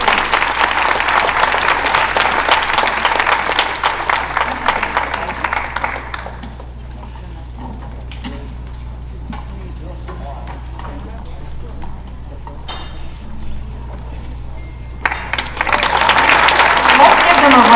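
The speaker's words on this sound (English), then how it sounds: "Let's give them a round of applause." Audience applause at a film panel for Rebel Hearts, dense clapping that fades to a thinner patter midway and then rises again near the end.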